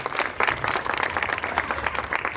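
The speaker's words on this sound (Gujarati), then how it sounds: "એના માટે જે લાઇટિંગનું જે એમણે અમૂલ્ય ફાળો આપ્યો છે, એવા ધવલ લાઇટિંગ એન્ડ ડેકોરેશન માટે જોરદાર તાળીઓ થઈ જાય" An audience at a Navratri garba festival breaks into sustained, dense applause, many hands clapping continuously and fairly loud for a couple of seconds.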